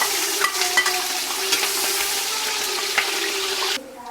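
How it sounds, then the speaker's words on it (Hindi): Onions sizzling as they go into hot cooking oil for a savory home-style dish, a steady close crackling hiss with occasional sharp pops and spatters, no talking, ending with a quieter fade. "अब हम इसमें प्याज डाल देंगे।"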